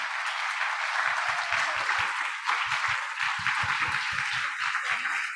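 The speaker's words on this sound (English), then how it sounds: "So a round of applause." An audience at a celebration-of-life gathering gives a sustained round of applause, dense steady clapping from a large group filling the room, with a few sharper individual claps standing out near the front.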